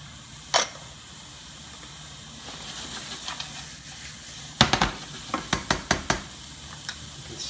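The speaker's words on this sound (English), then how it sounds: "I'm going to saute those until the flavor just starts to come out a little bit." Chopped green onions and mushrooms sauté in a pan for homemade ramen, giving a low steady sizzle that is broken midway by a quick cluster of sharp spoon clicks and scrapes, with no voices.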